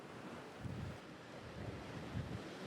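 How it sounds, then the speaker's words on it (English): Waves and moving water churn near Fort Pierce Inlet as a hurricane passes, a steady broadband wash mixed with wind buffeting the microphone, with low surges swelling and fading and no voices. "the overwhelming sound right here is the waves, the movement of the water"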